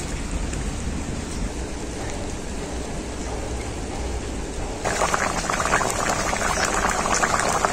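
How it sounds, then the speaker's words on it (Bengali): Fish curry with ridge gourd and potato bubbling vigorously in a pot, a dense, steady hiss of boiling liquid that grows louder and fuller partway through. "মাছ আর ঝিঙেটা দেওয়ার পর ঝোলটাকে খুব ভালো করে ফুটিয়ে নেব।"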